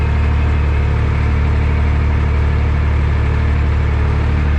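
An Oliver Super tractor engine runs steadily at idle with a deep, even low rumble, loud and close, and no one speaks over it.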